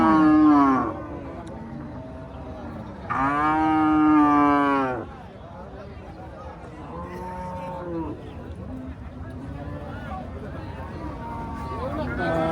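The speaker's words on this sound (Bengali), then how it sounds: "দেখেন আমাদের মাঝে অসংখ্য গরু উপস্থিত।" Cattle low loudly at a busy cattle market in Dinajpur, two long close moos early on, then softer, shorter bellows repeat through the rest over a background of market noise.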